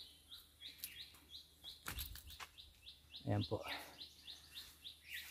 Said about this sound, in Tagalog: May ibon pa doon.